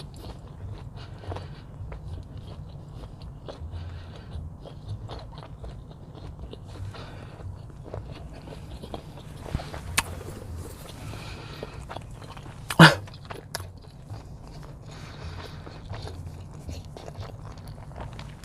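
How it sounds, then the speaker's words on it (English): Close, quiet biting and chewing of a Beyond Meat plant-based sausage, soft repeated mastication with one sharper crunch partway through. "Let me take a bite because I really want to taste this sausage"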